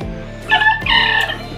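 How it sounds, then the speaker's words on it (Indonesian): A rooster crows nearby in two loud bursts over about a second, the second call longer, with a faint background hum. "Nah, ayam berkokok."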